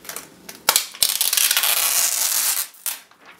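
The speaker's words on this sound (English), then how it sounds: "So now let's get the MacBook Pro out of the plastic and open it up. Let's break the seal." Crinkly plastic crunches and tears as the seal on a 15-inch mid-2015 MacBook Pro's packaging is broken. A few sharp clicks lead into a sustained close-up crackle that fades out, with a last brief rustle.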